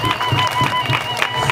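A crowd at an outdoor official ceremony launching a radiology building breaks into clapping, a dense rapid patter of many hands, fairly close and sustained over a short stretch.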